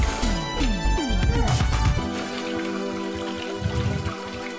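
Rinse water splashes and trickles out of a part of a reverse osmosis water purifier being cleaned, close and uneven at first, then settling into a thin, steady dribble.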